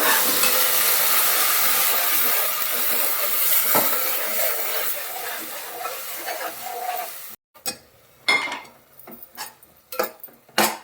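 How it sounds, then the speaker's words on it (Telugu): Tomatoes hit a pan of browned onions, starting a loud, steady sizzle that fills most of the stretch. It then gives way to separate clattering stirring strokes near the end. "ఉల్లిపాయలు బాగా ఎర్రగా వేగినాయి. దీంట్లోకి మనం ఇప్పుడు టమోటా"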